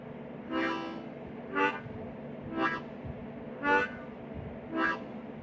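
Five evenly spaced bursts of a harmonica-like wailing tone, swelling and fading like a distant train horn, alone with no talking.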